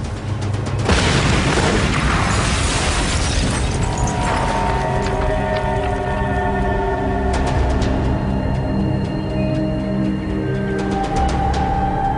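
A set explosive charge goes off with a heavy deep boom, followed by a long rumbling roar of debris and echoing mechanical rattles that slowly fade.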